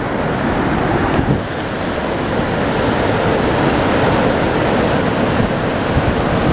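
River water rushes loud and steady along a hiking trail in Kyburz, California, a dense unbroken roar with no talking.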